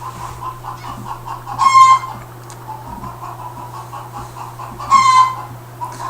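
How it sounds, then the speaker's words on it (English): Backyard chickens cluck outdoors in a repeated, moderately loud pattern, with two short, bright crowing calls cutting through over a low steady hum. "my chickens are being noisy outside"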